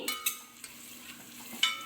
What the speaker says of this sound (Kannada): ಅದಕ್ಕೆ ಅರ್ಧದಷ್ಟು ಈರುಳ್ಳಿನ ಹಾಕ್ಕೊಂಡು ಚೆನ್ನಾಗಿ ಫ್ರೈ ಮಾಡ್ಕೊಳ್ತಾ ಇದ್ದೀನಿ